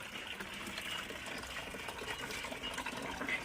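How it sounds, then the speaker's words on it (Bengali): Water runs and gushes steadily as it fills a rooftop garden spray machine, fed by a pipe from a bucket, with a low pump-like hum underneath, moderately faint and with no talk. "আমি এবার আপনাদের জল ভরে দেখাচ্ছি"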